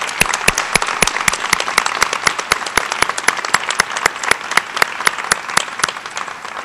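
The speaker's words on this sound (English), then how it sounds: "would you please join me with a big round of applause for these individuals who have helped" Enthusiastic applause fills a hall at a graduation ceremony, dense sustained clapping from a large crowd with sharp individual claps punctuating it throughout.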